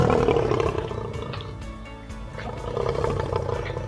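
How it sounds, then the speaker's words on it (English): A big cat, a lion or tiger at the Philadelphia Zoo, roars loudly and close, a deep rumbling growl that swells, dips, then rises again without pause. "let's go find that roar and see if it's a lion or a tiger"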